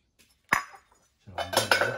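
Fired ceramic 20 cm plates, baked at 1250 degrees, clink together as they are lifted from a kiln, a sharp single knock followed after a pause by a cluster of close ringing clatters.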